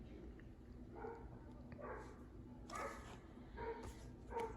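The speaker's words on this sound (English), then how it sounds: "And there's a dog barking in the background." A neighbor's dog barks somewhere in the background, several faint, distant yips and barks spaced irregularly over a low steady room noise.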